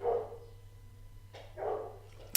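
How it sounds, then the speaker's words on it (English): A dog barks twice, a short sharp bark near the start and another about a second and a half later, fairly close in an otherwise quiet room. "Today I'll be joined by a barking dog."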